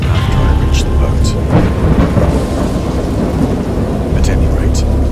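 Thunderstorm with steady heavy rain in the horror game Dagon, a dense continuous roar of rainfall with low rolling thunder rumbling beneath and a few sharper cracks, loud and close throughout.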